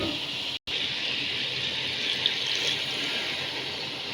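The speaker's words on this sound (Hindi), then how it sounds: "अब हम इसमें हाफ़ कप पानी का ऐड कर देंगे।" Half a cup of water poured into a pot of aloo chicken matar during cooking, a steady close liquid pour with one brief break, alone without talk.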